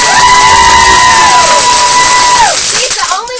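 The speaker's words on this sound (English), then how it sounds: "Y'all clap for Katie" An audience at a training event in Birmingham applauds and cheers, a loud, dense crowd roar with a sustained whooping tone that fades after about two and a half seconds.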